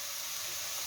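Shrimp for a kimchi-free seaweed soup and shrimp fried rice meal hits a hot pan with mirin, giving a brief, steady, bright hiss of frying and steam, close and continuous.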